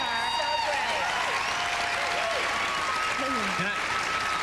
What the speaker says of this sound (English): Was there an applause sign out there, or have you guys actually seen it?